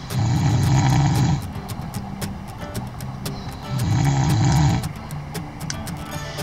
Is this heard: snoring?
yes